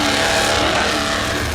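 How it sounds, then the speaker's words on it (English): Offshore powerboat engines at a Super Boat Grand Prix off Deerfield Beach, Florida, roaring continuously and loudly as the boats race past the VIP pier, a dense, rough, steady motor roar. "That's the motors hitting their rev limiters."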